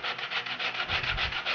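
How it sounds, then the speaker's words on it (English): A sanding block rubs back and forth over the rough edges of a homemade fish basket, giving steady close rasping strokes in a quick, even rhythm with no talk. "take a sanding block and just sand down this"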